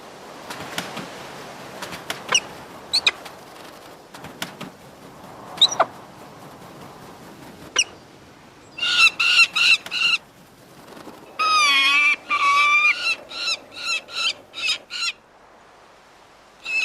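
Young peregrine falcons give loud, harsh repeated calls in rapid bursts, alternating with quieter stretches of scattered chirps and wing-flutter sounds.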